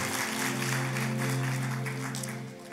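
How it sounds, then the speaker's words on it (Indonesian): A church congregation applauds for God after a prayer, a broad hiss of clapping over sustained tonal music, steady and moderately loud before trailing off. "kita kasih tepuk tangan yang meriah buat Tuhan kita"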